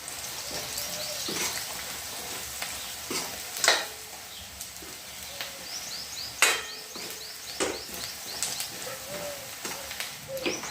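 Crushed peanut mixture sautéing in a pan, giving a soft steady sizzle with intermittent stirring scrapes and clinks, while birds chirp faintly in the background outdoors.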